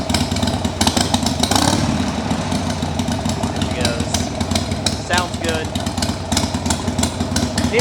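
Motorcycle engine running without choke, a loud clattering idle with rapid uneven firing pulses and a couple of brief revs in the middle.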